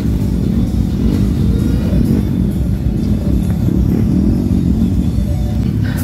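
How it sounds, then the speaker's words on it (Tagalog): Motorcycles fitted with aftermarket exhaust pipes rev at the start of an endurance race, a dense, loud, continuous engine rumble with overlapping throttle blips and no talk. "Dito todo bomba na yung mga naka-pipe na kasali sa event."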